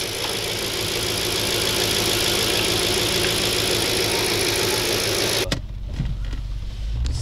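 An Audi S6 C5 with a 4.2 V8 idles steadily and loud up close on its first start after work, a constant rumbling drone that suddenly cuts off near the end, leaving a quieter low hum.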